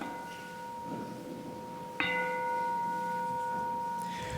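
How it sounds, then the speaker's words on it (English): A meditation bell is struck once, its clear tone ringing on and slowly fading over a quiet background; another soft tone lingers before the strike. "And we ring this meditation bell."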